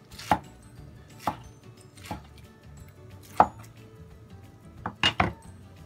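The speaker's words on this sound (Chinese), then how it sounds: "咁將佢切碎啦，切到中間心嗰嚿就唔要啦" Snow fungus, soaked soft, being chopped with a knife on a board: several sharp chops scattered irregularly, with a quick cluster near the end, close and distinct against a quiet background.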